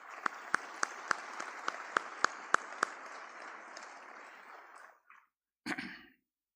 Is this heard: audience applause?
yes